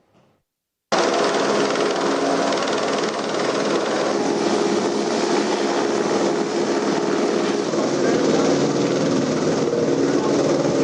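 A loud, steady helicopter engine roar with rotor thrum starts abruptly and holds constant, close by, with no voices.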